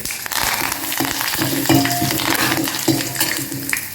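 Cumin seeds, mustard seeds and curry leaves sizzling in hot oil for a poori curry, a close, busy crackle with sharp pops and spatters over a steady hiss.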